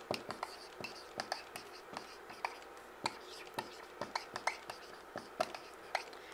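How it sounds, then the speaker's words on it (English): Handwriting with a pen on paper, quiet close scratchy strokes in quick irregular bursts and taps, faint and intimate against a hushed background. "Let's write it out."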